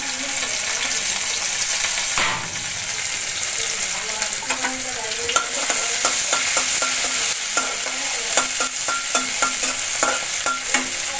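Chopped onion, garlic and green chili frying in a pan, a steady loud sizzle with a sudden burst as they hit the oil, then repeated sharp scrapes and clinks of stirring.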